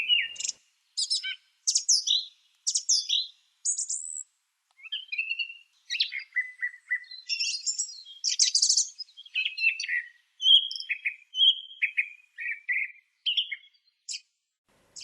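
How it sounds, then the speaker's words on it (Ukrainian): A song thrush sings in a forest, delivering crisp repeated phrases of bright whistles and chirps separated by short pauses, close and clear against a quiet background. "Пісня співочого дрозда чітко поділена на фрази"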